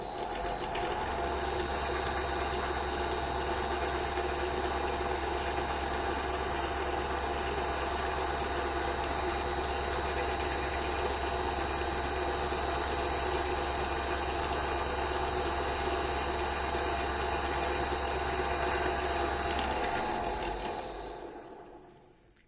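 A dynamic balancing machine in a classroom workshop runs with a steady, even mechanical hum and whir for about twenty seconds, then winds down and stops near the end, with no talking.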